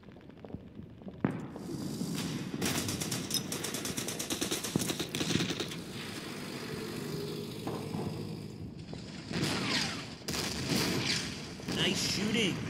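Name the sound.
BT-42 tank shooting in video game Order of Battle WWII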